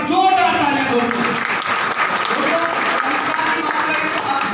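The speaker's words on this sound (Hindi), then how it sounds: "एक बार जोरदार तालियां दोस्तों।" An audience applauds with dense, sustained clapping that stays loud throughout, while a voice carries on speaking over the crowd.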